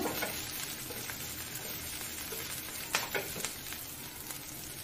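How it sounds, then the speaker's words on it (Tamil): Sliced onion and green chilli sauté in a pan with a continuous soft sizzle and hiss, broken by a few brief clicks of stirring near the end, faint and steady with no voices. "வெங்காயத்தை லேசாக வதக்கி விட்டுக்கோங்க"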